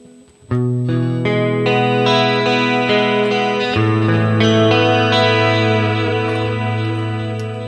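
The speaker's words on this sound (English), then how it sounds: "usual delay here for these nice ambient tones." A Harley Benton DNAfx Git Pro multi-effects unit plays a clean electric guitar through a delay patch for ambient tones, sustained chords blooming with repeating echoes and a shimmering chorus-like wash, loud and alone.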